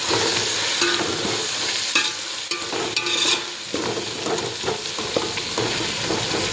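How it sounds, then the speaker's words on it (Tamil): Tomatoes sautéing in a pan for veg biryani, a steady broadband sizzle with stirring scrapes and small clicks running throughout, close and fairly loud, no voices. "பழம், தக்காளி இதில் போட்டுக்கணும். அப்படி வதக்கி விடணும்."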